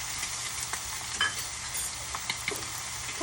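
Eggs frying in a pan at lunch, a steady soft sizzle and crackle with a few faint clicks, close and moderately quiet, no voices.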